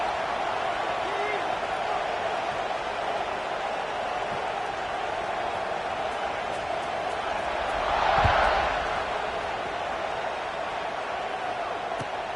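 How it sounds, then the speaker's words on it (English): Steady crowd murmur from a football video game stadium, a broad constant wash with a brief swell near the end, running under commentary. "this crowd is buzzing after that last score"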